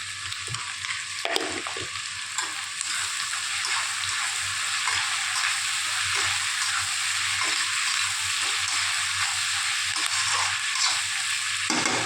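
Onions fry in a hot pan with salt, giving a steady, loud broadband sizzle throughout with occasional stirring scrapes and no talking.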